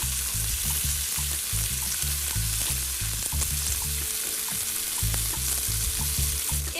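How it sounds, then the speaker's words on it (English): Steak sears in a stainless steel pan, a loud continuous sizzle and crackle of frying fat, close up with no talking. "the quality of the cookware sears in all the flavor and all the juice and all the delicious taste of the steak"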